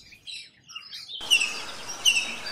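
A wild Alexandrine parakeet, green with red wing patches, gives two sharp, bright chirping calls about a second apart, fairly close and clear against a quiet background.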